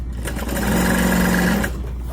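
A sewing machine stitches fabric lining for a car trash can in one loud, steady run of about a second, close up, starting and stopping cleanly.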